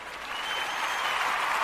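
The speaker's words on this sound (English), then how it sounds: "We need a round of applause for that." A round of applause from a live audience, dense steady clapping that swells slightly and stays at a full, even level to the end.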